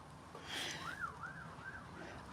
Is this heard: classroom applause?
no